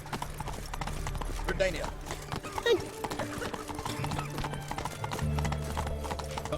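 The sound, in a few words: Geralt's horse Roach, hooves clip-clopping, The Witcher 3 video game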